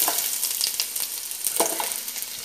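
Onion crackling in coconut oil in a kadai for tempering, bright sizzling with scraping stirs and small pops, close and steady without voices.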